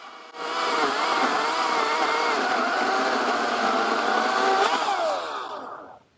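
Ryobi 40V battery chainsaw, model RY40530, cutting through dead oak, a loud, steady electric motor whine rising as it bites into the wood for several seconds, then winding down and stopping.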